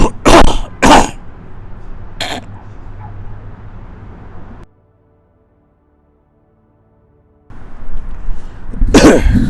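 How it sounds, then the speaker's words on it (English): Several sharp, loud coughs come in a quick cluster near the start and one more a moment later, then a silent gap, and a final burst of coughing at the end. "these coughs are out of control"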